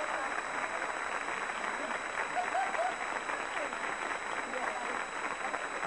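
Studio audience applauding on the game show Gäster med gester: dense, even clapping held steady for several seconds, fairly soft and distant, with no voices over it.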